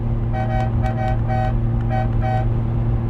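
A 1973 Ferrari 365 GTB/4 Daytona sounds its horn in five short, bright toots over a steady low engine hum, close and loud.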